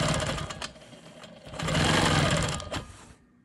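A Quilt Maker Pro 20 quilting machine stitches modern straight lines, a steady, close mechanical whir with a rapid needle rhythm that rises to a louder stretch midway, then dips and stops near the end.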